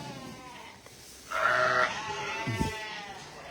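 A sheep on a farm at lambing time gives one loud, wavering bleat close by. Quieter livestock noise and faint farmyard ambience run before and after it.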